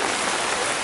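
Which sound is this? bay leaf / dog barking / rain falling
rain falling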